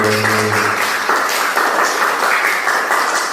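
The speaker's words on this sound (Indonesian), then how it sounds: "tepuk tangan dulu" Classroom applause bursts out at the end of a lesson on plants and digestion, a dense, steady wash of many hands clapping close by, with a voice briefly heard at the start.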